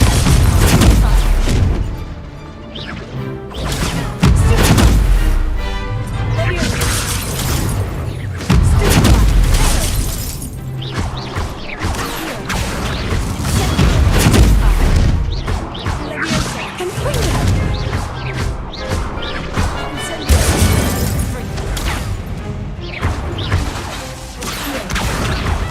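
Repeated loud blasts and crashing impacts from the Confringo blasting spell in Hogwarts Legacy, bursting at irregular intervals over a dense, roaring game backdrop.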